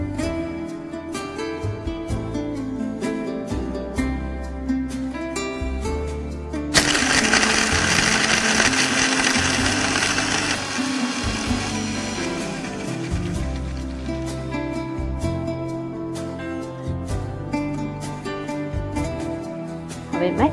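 A kitchen mixer grinding salt, ice cubes and drink ingredients with water, a harsh whirring burst for several seconds that stops abruptly, set among quieter kitchen noise.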